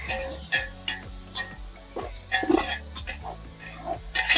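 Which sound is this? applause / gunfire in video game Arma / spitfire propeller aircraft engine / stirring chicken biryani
stirring chicken biryani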